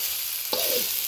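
Sausages frying without oil in a pan, a steady hissing sizzle throughout with a brief clattering scrape near the middle as the food is stirred.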